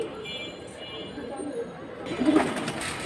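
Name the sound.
silver pigeons cooing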